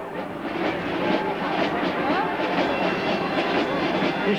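A tractor pulls a parade float at a mid-Lent carnival in Coëx, its steady engine rumble carrying through dense outdoor crowd noise with faint voices mixed in.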